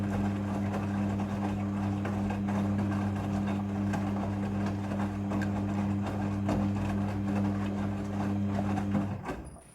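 A Midea front-loading washing machine fills with water for its rinse cycle, a steady low motor hum over rushing water that runs continuously and cuts off just before the end.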